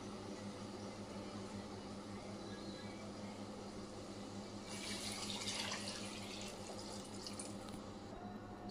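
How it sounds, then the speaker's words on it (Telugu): Water is poured into a rice cooker for veg biryani, a steady faint trickle under low background hiss that swells into a brighter splashing gush partway through. "దానికి సరైన క్వాంటిటీ ఆఫ్ వాటర్ దీంట్లో వేద్దాము"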